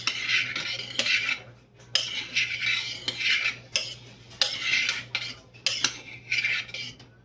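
A spoon scrapes and clinks against a metal pot as bean chili is stirred, in several rhythmic bursts of rasping strokes, close and fairly loud.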